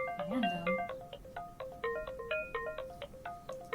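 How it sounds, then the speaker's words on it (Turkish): Computer notification tone in a horror short film: a bright electronic chime pattern of stepped beeping notes repeating steadily in a ringtone-like loop, moderately loud and clean with no speech over it. "Bir bildirim geldi galiba bilgisayardan."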